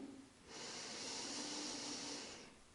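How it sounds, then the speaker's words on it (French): A single slow inhale through the nose during a breathing exercise, a soft, steady airy hiss that lasts about two seconds, close and faint, with no talk. "j'inspire par le nez"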